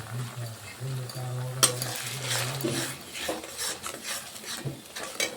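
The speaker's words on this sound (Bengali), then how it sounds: "দিয়ে ভালো করে আমরা কষিয়ে নেব, যাতে টমেটোর কাঁচা গন্ধটা না থাকে" Tomato paste and spices being sautéed in a pan, with soft scraping and stirring of a utensil against the pan and a faint sizzle, close and moderately quiet.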